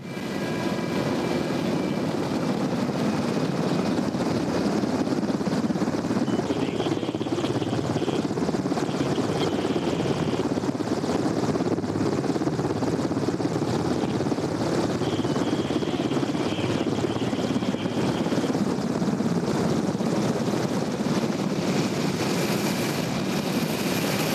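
A helicopter drones steadily throughout, a continuous rotor and engine roar that holds at an even level for the whole stretch, with no voices over it.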